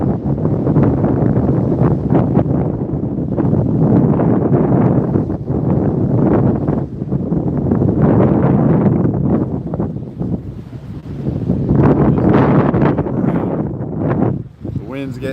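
Strong wind buffets the microphone on a surf-fishing beach at Amelia Island, Florida, a loud continuous roar rising and falling in gusts throughout, with ocean surf blended underneath.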